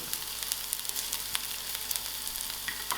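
Onions fry in a pan with a continuous close sizzle, dotted with sharp crackles and pops and light stirring scrapes, no voices.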